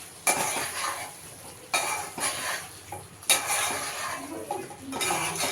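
Chicken curry being stirred in a pot, close spoon scrapes and clinks against the metal in separate strokes, with a soft sizzle underneath and no talking.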